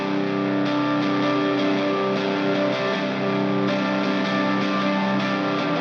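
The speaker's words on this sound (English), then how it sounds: "And here's a guitar with reverb first and distortion after." An electric guitar, reverb placed before distortion, strums steady chords through a fuzzy, saturated tone with smeared, ambient sustain, loud and continuous throughout.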